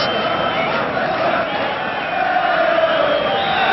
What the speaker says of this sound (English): The Portsmouth fans applaud their team off.